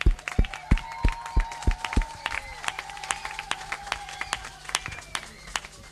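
A church congregation claps and cheers in joyful acclaim of God, starting with several loud, sharp claps in a steady beat that give way to busier, softer clapping and crowd noise.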